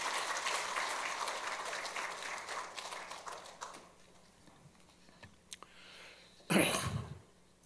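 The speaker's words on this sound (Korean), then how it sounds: "따뜻한 박수로 맞아주시기 바랍니다." A church congregation at a Korean Sunday service applauds to welcome a senior pastor: dense clapping for about four seconds that thins out, followed by a few scattered knocks and a short burst of shuffling.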